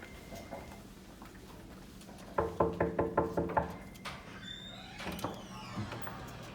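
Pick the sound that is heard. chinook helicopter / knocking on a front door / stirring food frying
knocking on a front door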